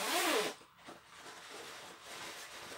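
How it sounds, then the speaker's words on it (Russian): A zipper is drawn on a women's hooded fleece-lined vest, opening with one quick, loud rasp followed by quieter fabric rustling. No voices. "Сама куртка на молнии."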